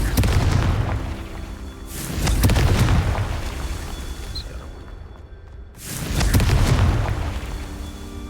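Confringo blasting spells go off in Hogwarts Legacy, two heavy booming explosions a few seconds apart, each swelling then tailing off, with a short quiet gap between them.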